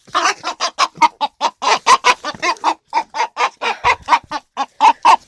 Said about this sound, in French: Puis on va attraper le coq.